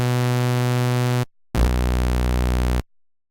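A Serum synth patch built from a hand-drawn retro waveform plays two sustained, buzzy, hollow square-like tones, loud and evenly held, with a short gap between them and a lower second note.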